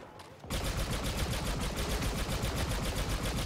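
Rapid blaster fire in Star Wars Battlefront 2 Galactic Assault, a dense continuous stream of loud shots bursting in after a brief quiet moment and rattling on without pause.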